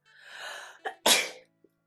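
One close sneeze: a rising inhale building up, a quick catch, then a sharp forceful burst that cuts off into quiet.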